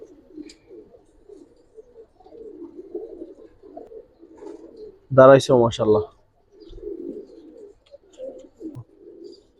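Pigeons coo softly in low murmuring phrases throughout, while someone speaks briefly over them in the middle.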